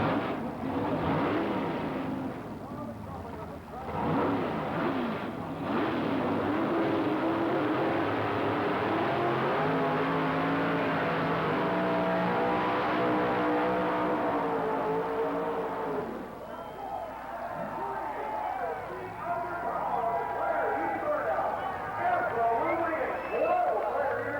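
Gordy Foust's drag racing car makes a 200 mph IHRA run at Bristol International Dragway, Tennessee, in 1989: a loud, sustained engine roar fills the whole stretch, rising and shifting midway, under an announcer's steady talk and crowd noise.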